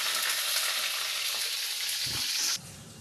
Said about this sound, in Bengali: মা ভাজছে এখানে